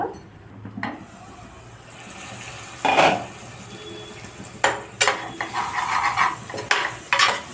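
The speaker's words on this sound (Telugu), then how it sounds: "ప్లేట్ పెట్టేస్తా ప్లేట్ పెట్టేసి ఒక రెండు నిమిషాలు మగ్గనిద్దాం లో ఫ్లేమ్లోనే" A metal plate clanks onto a pan of green chilli and broad bean curry as a lid, with several sharp metallic knocks and scrapes amid faint background sizzle, no talking.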